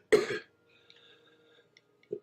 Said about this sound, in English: He's got the smoker's cough